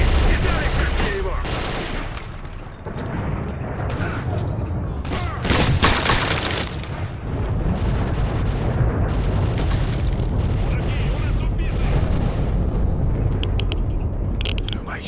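Gunfire and booming blasts in the video game S.T.A.L.K.E.R.: Call of Pripyat, repeated sharp shots and explosions spread over the whole stretch, mixed with people talking.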